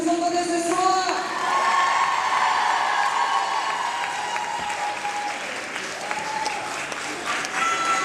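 A large audience at the Miss Woluwe 2012 beauty pageant applauds in a sustained, dense wave of clapping with scattered whoops and cheers, while a voice speaks over the crowd.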